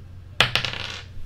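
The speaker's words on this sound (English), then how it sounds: "Let's roll the dice twice." Dice are rolled onto a hard surface, giving two sharp, close clacks a moment apart, then a short fading rattle as they settle.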